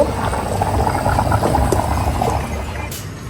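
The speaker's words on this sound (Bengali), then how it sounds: "চুলাতে আমার ডিম ভাজি আর ভাত হচ্ছে।" Eggs fry and rice cooks together on a stovetop, giving a loud, steady bubbling hiss that runs unbroken for a few seconds. A faint clink rises near the end, and no one speaks.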